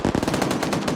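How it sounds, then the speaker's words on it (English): A rapid burst of automatic gunfire in a PvP video game match, firing into a bunker: about a dozen quick, evenly spaced shots, loud and close. "I think he's firing in this bunker right here. Cord returning fire."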